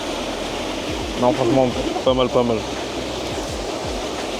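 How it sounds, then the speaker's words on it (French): A small waterfall on a sunny hike in Luxembourg gives a steady broadband rush of falling water throughout, with people talking close by over it. "on est auprès de la cascade"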